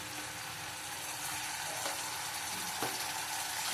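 Ginger and garlic frying in a pan for a prawn fritter dish give a steady, close, broadband sizzle that runs unbroken throughout, with a few faint scraping clinks from stirring and no talking.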